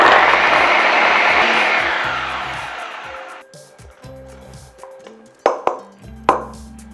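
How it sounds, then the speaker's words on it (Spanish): A food processor grinding cassava roars loudly and steadily for several seconds, then stops, leaving a few clattering knocks and thuds close by. "Ahora vamos a moler esta yuca en el procesador."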